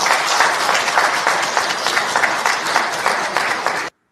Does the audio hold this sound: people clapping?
yes